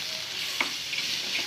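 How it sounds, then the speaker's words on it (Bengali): Fish oil frying in a pan on low flame while bitter gourd and potato are cooked, a faint steady sizzle with a light stir or clink partway through, no talking. "মাছের তেলটা একটু ভাজা ভাজা হোক।"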